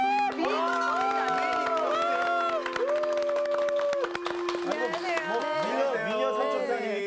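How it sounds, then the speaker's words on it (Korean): A studio audience at a Korean Bible-study lecture broadcast claps to welcome a guest, with scattered claps under strong, melodic voices and cheering that carry over much of the applause. "우리 향기 씨 박수 한번 해주면 환영합시다"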